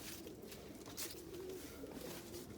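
Indian fantail pigeons in a warm coop give soft, low cooing, faint and somewhat distant, with a brief rustle partway through against quiet background hiss.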